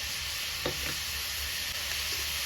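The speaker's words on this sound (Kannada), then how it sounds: "ಉಪ್ಪು ಹಾಕೊಂಡ್ಮೇಲೆ ನೀಟಾಗಿ ಇದನ್ನ ಫ್ರೈ ಮಾಡ್ಕೊಳ್ತಾ ಇದ್ದೀನಿ" Onions frying with salt in a pan while samosa filling is being made at home, giving a steady, close sizzle with a few soft stirring scrapes and no talking.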